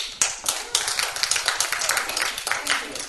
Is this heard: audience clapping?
yes